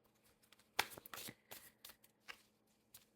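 A Light Seers tarot deck is shuffled close by, quiet riffles and card slaps in short bursts with no voices.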